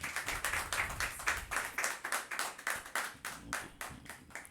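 A church congregation at Sunday Mass claps for Father Kitler in a steady, even rhythm of sharp hand claps, faint and somewhat distant, with no talking over it.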